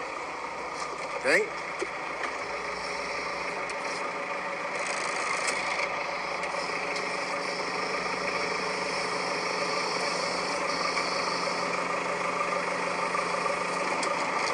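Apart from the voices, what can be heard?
forklift engine running while raising Yamaha F-115 outboard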